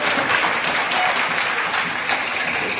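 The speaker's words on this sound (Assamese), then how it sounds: "এখন স্কুলৰ হাত চাপৰি মাৰা।" A school audience claps at an educational award ceremony at Digboi High School, dense, steady applause from many hands, close and loud.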